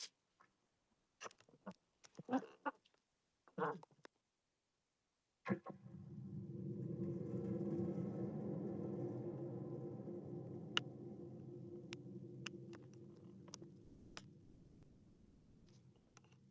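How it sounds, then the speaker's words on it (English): Scattered taps and clicks, then a sudden low, rolling rumble swells and slowly fades away like distant thunder, soft and sustained. "That is a thunder drum."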